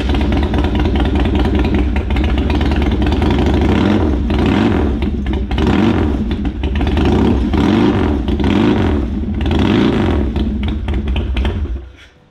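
A motorcycle with a built, Buell-based motor revs loudly and close up in a garage, its engine climbing and dropping in repeated throttle blips before cutting off at the end, with no talking.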